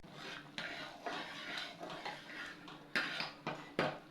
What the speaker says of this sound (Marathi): असे ढवळत राहायचे ही खीर जोपर्यंत शिजत नाही व्यवस्थित